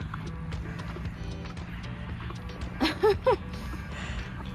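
Horses at an animal refuge shift about with soft hoof sounds, then give a brief, fairly close whinny near the end. No one speaks.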